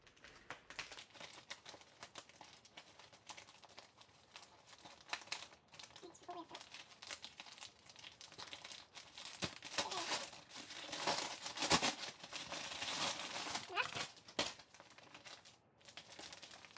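Plastic wrapping crinkles and tears as a package of yarn is opened by hand without scissors, steady rustling for most of the stretch with a louder burst near the middle, while someone talks over it.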